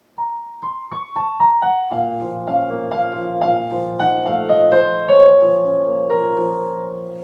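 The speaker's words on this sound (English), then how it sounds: "And the audio sounds like this on the piano." Piano plays a gentle melody with sustained chords, slightly thin and roomy as captured by a webcam microphone; no talking.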